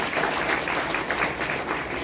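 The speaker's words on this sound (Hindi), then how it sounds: "आप सब उसके लिए एक बार ताली तो बजा दें।" Audience at a spiritual talk gives a round of applause, a dense, continuous clapping from many people at moderate volume, lasting a couple of seconds without speech.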